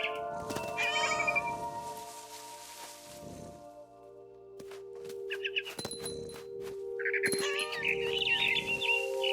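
A cat meows repeatedly in the video game What Remains of Edith Finch, with bird chirps and a steady low drone behind, the calls coming in short bursts early and again near the end.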